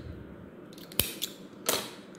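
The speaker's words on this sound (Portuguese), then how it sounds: "vou fazer uma correntinha e vou cortar esse fio" Scissors snip through crochet yarn, with a few brief, sharp clicks and cuts close by in a quiet room.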